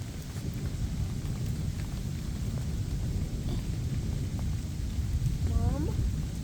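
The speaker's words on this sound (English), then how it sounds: "it is nighttime and it is raining. It's only sprinkling" Light rain sprinkles at night during a Minnesota thunderstorm with pink lightning, a steady broadband hiss of drops without a break, and a brief faint chirp near the end.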